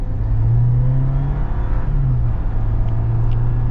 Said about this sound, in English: we're going to get a partial acceleration